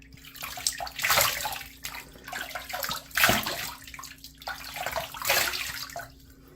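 Tap water runs in a bathroom sink to rinse a King C Gillette safety razor, flowing steadily with a few louder splashy surges as the razor is passed through the stream.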